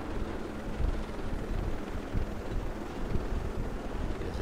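A helicopter flies in the video game Ghost Recon Breakpoint, a constant muffled rotor and engine roar with windy rumble, steady and fairly loud, with no voices.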